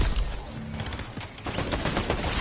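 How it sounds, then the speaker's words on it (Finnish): Gunfire in the video game Fortnite, rapid bursts of automatic shots and scattered single cracks, loud and close, continuous across the clip. "Meitä ammutaan tuolta"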